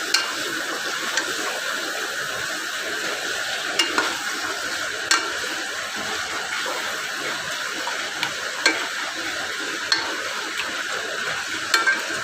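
Chicken pieces for Kashmiri chicken sizzle in a pan with sautéed onions and salt while being stirred, a constant frying hiss broken by sharp, regularly spaced scrapes and taps of the spoon against the pan.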